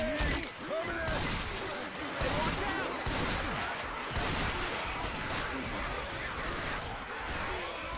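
Gunfire in the Left 4 Dead video game with a Mario mod, in a dark area: dense, continuous rapid shots and crashes that carry on throughout, with voices speaking over the din.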